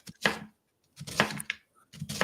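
Onion is chopped with a kitchen knife on a board in a home kitchen: three separate bursts of quick, crisp, close cuts with short silent gaps between them.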